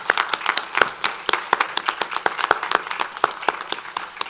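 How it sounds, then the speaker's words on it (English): A small gathering at a Brookland District Two family assistance fund announcement applauds two donors, with sparse, distinct individual claps in an uneven rhythm, fairly close and clear, without talk. "Let us give Michael and Jennifer Borton a hand of applause."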